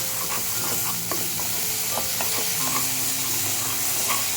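Spices with garam masala sizzling loudly in hot oil for veg kofta curry, with a dense continuous frying hiss and scattered spoon scrapes and clinks near at hand.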